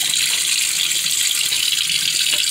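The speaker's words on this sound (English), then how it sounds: "I'm constantly just putting in a little bit of the hot water" Warm water runs steadily from a kitchen tap, a loud, continuous close splashing gush with no pauses.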